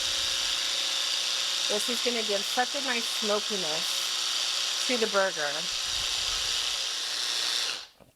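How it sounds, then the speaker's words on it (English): A blender whirs continuously, breaking down chipotles for black bean burgers, a steady high-pitched motor whine that runs under a person talking and cuts off abruptly near the end. "we're just going to blend these until the chipotles are all broken down"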